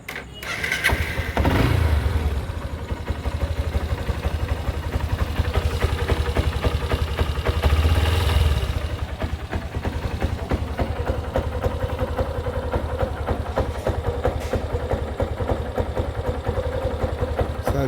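A Honda Hornet motorcycle engine cranks and catches with a short roar, then settles into a steady, close idle that runs continuously, with a second brief rev partway through.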